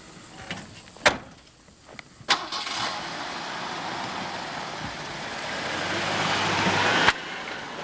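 A truck door thumps shut, then the engine cranks and catches, swelling into a steady, rising idle that rumbles close by with no talk over it.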